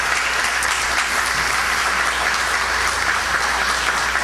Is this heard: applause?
yes